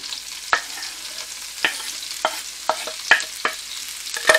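Green leeks frying in melted butter in a pan, a steady soft sizzle broken by sharp scraping stirs at irregular intervals, close and fairly loud, with no voices.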